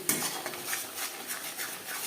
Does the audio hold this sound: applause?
no